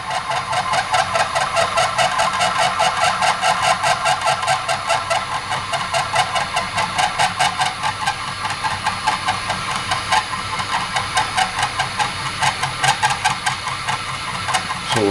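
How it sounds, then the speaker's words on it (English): A metal lathe turns slowly at 180 RPM while machining an air ride part for a Golf GTI. It gives a steady, dense mechanical whir with a fast repeating pulse throughout, loud and close, with no talk. "So 180 RPM, running real slow."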